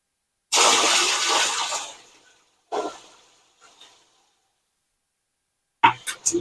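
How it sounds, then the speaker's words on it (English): A loud rushing splash of water poured from a bucket into a sump pit for over a second, then a smaller splash and a trickle, followed by a short burst of noise as the sump pump triggers. "we're going to trigger this sump pump by pouring the bucket of water into the pit"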